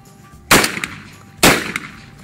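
Two loud shotgun blasts roughly a second apart at a sporting clays range, each with a short echoing decay, and no talking in between.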